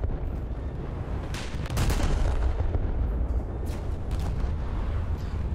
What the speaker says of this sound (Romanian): asta e o pușcată în față lângă tun